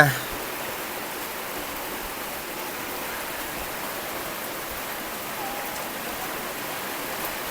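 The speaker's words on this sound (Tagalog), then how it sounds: "Lakas ng ulan po, grabe." Steady, dense downpour hissing continuously at an even level, a constant wash of rain with no pauses.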